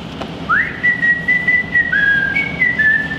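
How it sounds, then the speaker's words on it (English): A single person whistles a short rising then steady tune in a kitchen, clear and close, with nothing else over it. "No whistling, ever. Whistling is like the noise of the devil."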